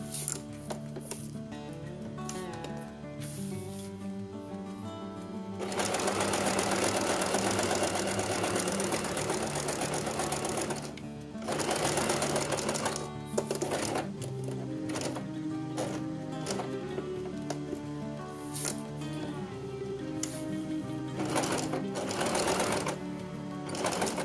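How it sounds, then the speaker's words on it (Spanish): A sewing machine stitches fabric for a face mask, running in loud rapid bursts separated by short pauses, with quiet stretches and faint handling sounds between runs. "Paso a la máquina y empiezo a coser."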